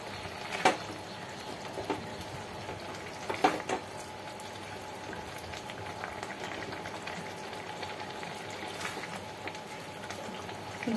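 Simmering ridge gourd and potato poppy seed curry bubbles and sizzles steadily in a pan after a little water is added, with a couple of soft clinks, no one speaking.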